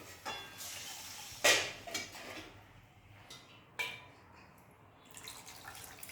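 Rinse water from a washed bowl poured into a besan and curd mixture, with splashing, dripping and a couple of sharp clinks of the bowl, close and moderate, no voices.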